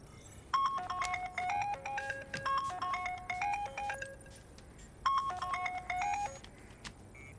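A phone ringtone plays a bright electronic melody of quick chiming notes, repeating in two phrases with a short gap, fairly quiet and with no voices.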